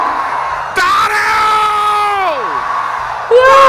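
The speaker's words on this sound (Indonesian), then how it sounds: "Berteriak sangat lantang." A Dayak commander's war cry rings out as a long, loud, sustained shouted tone that holds steady and then slides downward, starting again abruptly at the end, with crowd noise faintly behind it.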